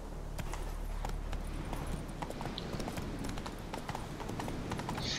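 Horse hooves clip-clop at a steady trot through The Witcher 3, a regular rhythm of fairly near hoofbeats over a low ambient game background, with no speech.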